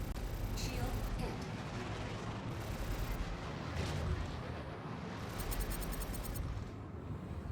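Spaceship guns in the Star Citizen video game fire in rapid bursts of heavy booming blasts over a dense, continuous rumble, with a player's voice talking over the gunfire.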